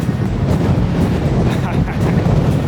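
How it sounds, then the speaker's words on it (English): Gale-force wind gusting in New York City buffets the microphone with a heavy, constant low roar, loud and close, with no clear talk over it. "it's literally gale force wind is blowing me away"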